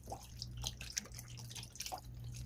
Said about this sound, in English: Okay, so we're going in with our chicken broth